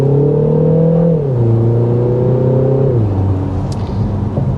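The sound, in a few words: 2025 Mini Countryman rolling acceleration, 2-liter turbo engine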